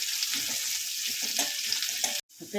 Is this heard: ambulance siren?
no